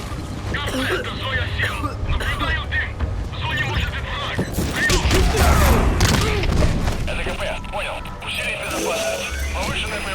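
Bombs from a support airstrike in the video game Metal Gear Solid V, a dense rumbling barrage of booms and crashes that swells in the middle, heard under continuous talking.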